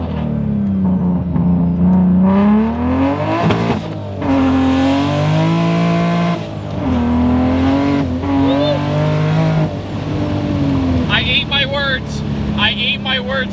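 A 900-horsepower manual Toyota Supra revs hard through repeated gear pulls, its loud engine note climbing, dropping at shifts and climbing again, heard up close from inside the car.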